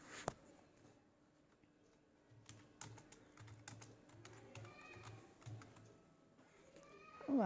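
Fingers type on a computer keyboard, a quick, quiet run of close key clicks with small pauses, ending in a brief louder rustle.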